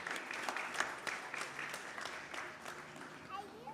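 A temple congregation at a Sunday service applauds students who did well in exams, soft, scattered clapping from a modest group in a room, faint and somewhat distant, with a voice speaking beneath.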